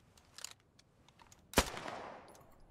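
A few faint distant machine gun bursts crackle in Post Scriptum, a World War II game, then one sharp loud shot rings out with a decaying echo tail.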